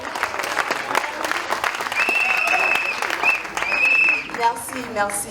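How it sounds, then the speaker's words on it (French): An audience at a live stage show applauds in a dense, continuous wash of clapping, with a voice speaking over it and brief whistles or cheers near the end. "Mon frère, fais un effort, applaudis"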